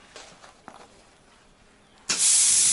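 A plasma cutter starts slicing sheet metal, a sudden loud steady hiss that cuts in after a couple of seconds of faint clicks and shuffling, then holds at full strength.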